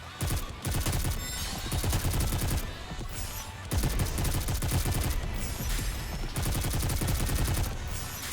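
Sustained automatic gunfire in a sci-fi shooter battle, loud rapid bursts and volleys nearly continuous throughout, with brief lulls between waves of fire.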